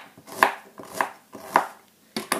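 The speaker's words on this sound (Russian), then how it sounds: "нарезать айву" A knife cuts through firm raw quince on a cutting board, several evenly spaced crisp chops close up with a sharp knock as the blade meets the board, and no voices.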